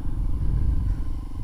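A Honda CRF 150 supermoto motorcycle rumbles along at a steady speed, a low engine drone with rough pulsing and some clatter, close and continuous.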